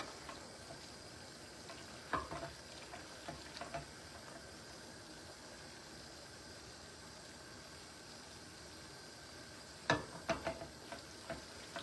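Dinner fries in a pan, giving a faint steady sizzle, with occasional scraping clicks from stirring near the start and again near the end.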